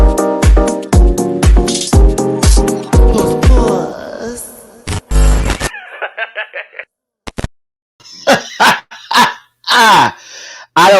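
A dog barks loudly and rapidly in a rhythmic burst of about ten close barks, then breaks into a few yips, followed by a person speaking and laughing nearby.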